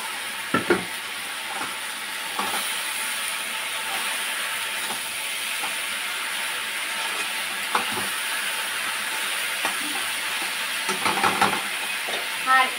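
Potatoes frying in a pan while being stirred, a steady sizzle and hiss with scattered scraping knocks, close and continuous, with no talking over it.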